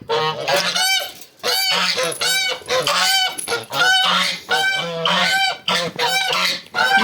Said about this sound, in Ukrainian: Так, тут гуси хочуть пастися.